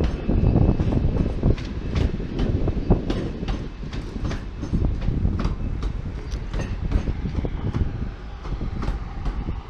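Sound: train at Manchester Piccadilly station

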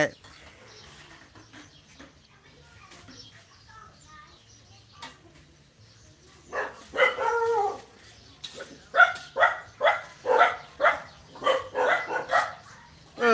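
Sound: dog barking

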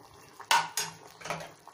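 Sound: stirring sambar in a pot

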